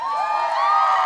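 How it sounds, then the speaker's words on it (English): A crowd at a women's lacrosse senior night cheers and shouts in a brief, loud, sustained burst of high voices as players are introduced. "crowd and the players down below us as each one is being introduced"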